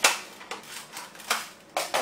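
Several sharp dart shots from a modified, breech-loaded Nerf LongShot blaster with a heavier-duty spring, sounding as about five crisp snaps in quick irregular succession, fairly close and clear, with no talking.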